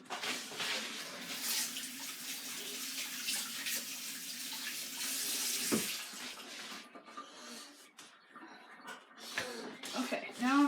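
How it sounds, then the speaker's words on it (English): Tap water runs into a sink during handwashing in a home kitchen, a steady moderate hiss that thins out partway through, with a few faint knocks and splashes near the end. "I'm gonna go wash my hands."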